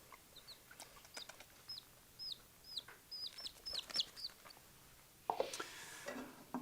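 Chickens cluck in a quick series of short, pitched calls that rise and fall, fairly close, followed near the end by a louder burst of squawking and flapping.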